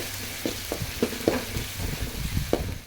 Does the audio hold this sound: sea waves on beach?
no